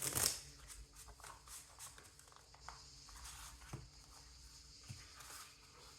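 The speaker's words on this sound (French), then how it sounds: "quand je bats des cartes, ça vous casse les oreilles." A quick riffle of playing cards being shuffled opens the clip, followed by soft, faint card handling and light taps.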